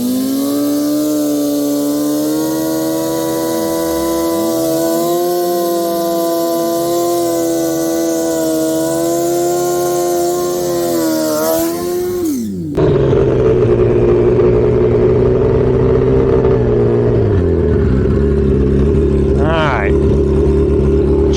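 Twin turbo Suzuki GSXR 1000 motorcycle on a cold drag track, a loud buzzing engine holding a steady high note, then dropping sharply to a deeper, rougher idle with a brief rev near the end; voices may be mixed in.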